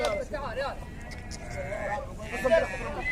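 Goats bleat repeatedly at a crowded goat market in Al-Hasa, Saudi Arabia, close by and mixed with steady crowd noise while people talk over the animals.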